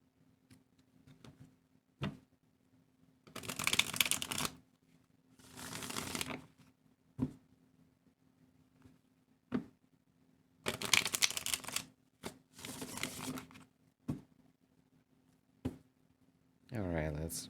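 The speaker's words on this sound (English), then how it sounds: "shuffle these Pegasus Oracle cards." Pegasus Oracle cards being shuffled during a tarot reading, several separate bursts of riffling and flicking card noise, close and moderately loud, with quiet gaps between.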